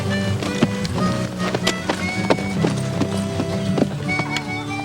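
Hooves of a gentle horse named Strawberry clip-clop at a slow walk during a Wild West trail ride, steady uneven knocks mixed with background music and ambience.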